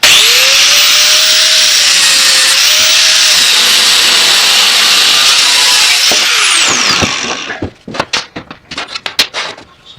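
A power tool cuts a metal wrench in half. A loud, steady, high-pitched grinding whine holds for about seven seconds, then winds down into a series of sharp clanks and knocks.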